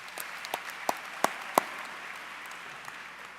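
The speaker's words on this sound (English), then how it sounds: "Let's have a round of applause." A few scattered claps ring out at an awards ceremony, five or six separate sharp hand strikes spaced about a third of a second apart, faint and thin against a quiet room hum before fading out.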